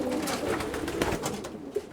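Pigeons coo softly in a Berlin pigeon loft, a steady murmur of overlapping low calls with faint rustling and occasional louder coos.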